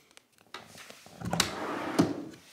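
Hidden compartment in a piece of furniture being unlocked and opened, a few light clicks followed by a wooden sliding scrape and a thump as the panel moves, close by, with no talking.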